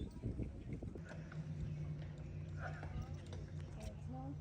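Horse hooves clip-clop steadily on a street alongside a horse-drawn carriage in a wealthy lakeside town, the rhythmic steps mixed with background chatter and street noise.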